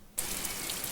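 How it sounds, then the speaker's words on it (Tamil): Rain falls outdoors at a rural home kitchen, starting abruptly as a dense, even patter with scattered louder drops striking nearby surfaces, and no one speaks. "மழை பெஞ்சிட்டு இருக்கு."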